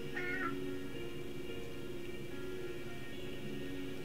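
A cat meows once, brief and fairly close, over steady ambient game music in the farming life-sim Wylde Flowers, then the background hum carries on alone.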